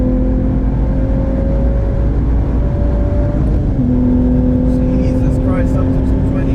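A 500 hp BMW M135i accelerates hard on a race track, its engine note droning loudly and steadily from inside the cabin and climbing in pitch through the gears, with a muffled voice faintly underneath.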